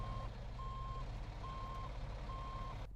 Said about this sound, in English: the driver of the bus turned on his rear tail lights and began to attempt to back into us